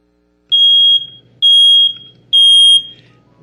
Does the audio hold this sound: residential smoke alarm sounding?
yes